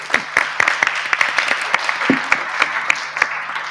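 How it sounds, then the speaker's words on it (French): An audience at a heritage-technology conference claps, the hall filled with sparse, steady applause of distinct, fairly close hand claps lasting several seconds. "on vous applaudit."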